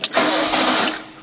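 A Ford Pinto engine catches and fires up, giving a short, loud, steady burst of running noise that fades slightly at the end.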